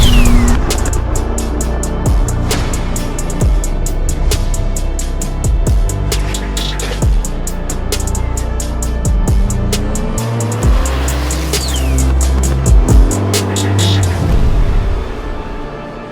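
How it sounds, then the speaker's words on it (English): A 1536 bhp Porsche 992 911 Turbo S with a 4.1-litre stroker engine roars loudly and close, revving hard with fluctuating engine pitch and faint tire noise throughout. "Introducing the most powerful and fastest 992 Turbo S on the planet."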